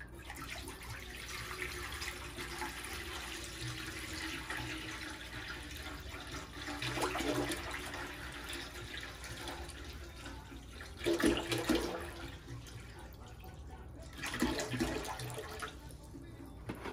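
Distilled water is poured into an ultrasonic cleaner being used to clean parts from a Neve 8248 mixing console. A steady, hissing stream runs throughout, with a few louder splashing surges near the end.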